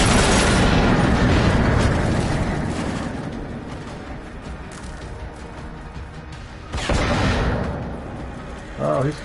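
Charges detonated in a video game, a loud explosive boom opening into a long decaying rumble, then another sharp blast near the end, with game noise throughout.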